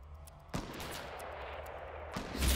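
Video game gunfire, two loud broadband shots about a second and a half apart, each followed by a brief ringing tail, with a rumbling boom rising at the very end.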